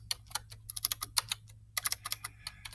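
Fingers tapping on a computer keyboard while writing a Google Docs outline, giving a close, irregular run of quick clicks in bursts with short pauses, over a faint steady hum and no talk.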